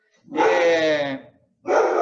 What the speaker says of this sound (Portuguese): O cachorro reage aos cachorros lá fora.